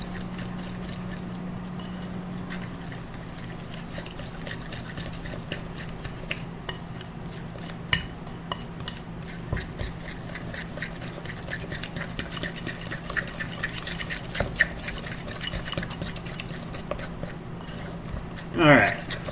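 Wet ingredients are stirred into dry ones in a mixing bowl, giving a steady scraping, swishing churn with occasional clicks of the utensil. Someone talks over it.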